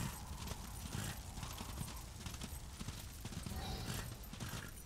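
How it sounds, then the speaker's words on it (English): A horse gallops in the video game Darksiders, with a fast, steady clip-clop of hoofbeats that runs close and continuous throughout, without talk. "Just calmly ride my horse back into here."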